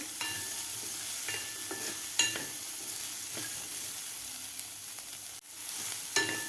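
Carrots, broccoli, corn and green beans sauté in butter over a medium gas flame, giving a steady soft sizzle with scattered clicks and scrapes from stirring.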